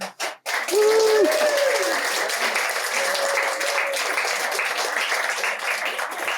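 A theatre audience applauds at the close of an amateur staging of A Midsummer Night's Dream, a steady wash of clapping that begins after a brief sharp sound, with a sung or sustained tone over it at first.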